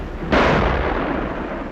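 Artillery guns fire in a 1939 film, a single loud booming blast with a sharp onset that rolls and rumbles on without any talk.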